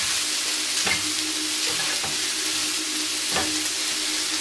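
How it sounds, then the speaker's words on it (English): Salmon frying in vegetable oil in a pan, a loud, continuous close-up sizzle with a few soft pops and stirring knocks, no voices. "then fry the fish."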